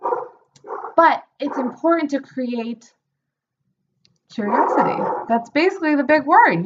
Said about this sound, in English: I'm sorry that that's my dog